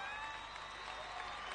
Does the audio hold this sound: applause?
yes